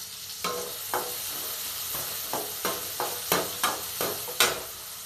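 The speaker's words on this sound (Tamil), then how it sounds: "வெங்காயத்தை போட்டாச்சு. வெங்காயம் வதங்கட்டும்." Onions sauté in a pan for mutton gravy, with a soft steady sizzle broken by about ten evenly spaced scraping stirs close by.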